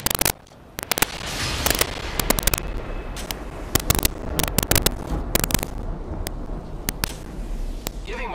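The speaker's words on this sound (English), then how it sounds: "I am taking fire, friends." Gunfire strikes the player in Apex Legends as a rapid, uneven string of sharp, close cracks and snaps over a steady rumbling background, several shots clustered tightly, with no speech.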